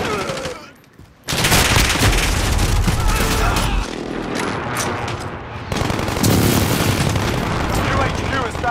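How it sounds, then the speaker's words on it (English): Precision airstrike explosions in Modern Warfare (2019), loud booming blasts and dense gunfire-like crackle after a brief quiet gap, continuing steadily and loud throughout. "Enemy precision airstrike,"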